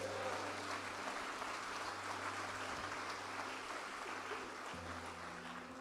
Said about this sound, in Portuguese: Vai aplaudindo a Deus,